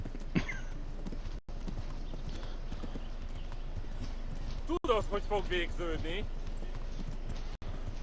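Steady clip-clop of horse hooves in Kingdom Come: Deliverance runs throughout over a busy game soundscape, with voices talking and a brief whinny-like call midway.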